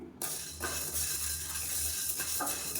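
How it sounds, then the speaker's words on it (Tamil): Black urad dal is dry-roasted in a pan, a spoon scraping and stirring in repeated strokes over a dry rustling sizzle, close and moderately loud. "இதையும் நல்லா சவக்க வறுத்துக்கலாம்"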